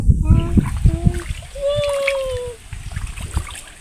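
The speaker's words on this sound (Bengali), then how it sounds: "জালটা আবার ভালো করে মেরো" A fishing net is thrown into water during home fish-catching, giving a close splashing, sloshing burst that settles into softer water noise, with voices talking and a brief high-pitched tone partway through.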